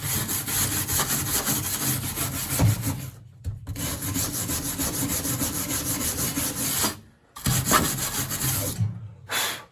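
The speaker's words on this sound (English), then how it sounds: "along the flange with a wire brush" A wire brush scrubs steadily along the rear body crossmember flange of a 1955 Buick Special, a close, harsh rasping that runs continuously with two brief pauses.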